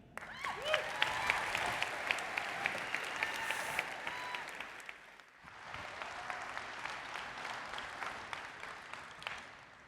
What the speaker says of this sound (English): So a big round of applause, please.